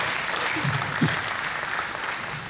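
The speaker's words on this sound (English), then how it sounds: "Please keep your applause going." An audience at a debt advice event claps steadily and fairly loudly, a dense wash of applause that carries on without a break and gradually eases off toward the end.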